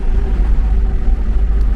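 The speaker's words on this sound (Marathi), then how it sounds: "गाडी मस्त चालली आहे बघा." Steady interior engine and road drone of a car cruising at around 70–75 on a highway, a continuous low rumble with no speech.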